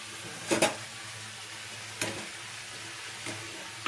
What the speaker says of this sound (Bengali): হলুদ দিয়ে দিলাম। হালকা আগে নেড়ে নেবো আমি